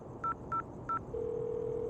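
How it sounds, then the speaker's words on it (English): Three short telephone keypad tones sound at a steady pace, followed by a continuous steady tone, as someone dials 999 from a phone box; clear and moderately quiet, with no voices. "I was in a phone box calling 999"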